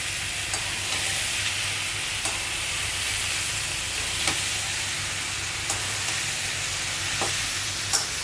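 Potatoes, boiled potatoes and young jackfruit sizzle and fry steadily in a pan, a continuous bright hiss with occasional light stirring clicks, close and alone without talk.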